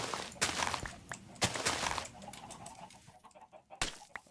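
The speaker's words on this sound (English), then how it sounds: "I hear the chickens." Chickens cluck in a road-building video game, several short bursts of clucking and squawking close by, with faint footsteps and flapping in between.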